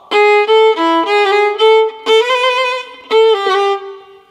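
Violin plays a lively Sârba Creață passage, bright bowed notes in quick detached bursts with ornamental trills and a downward mordent, close and clear, solo with no talking.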